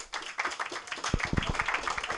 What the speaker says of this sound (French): et vous pouvez l'applaudir.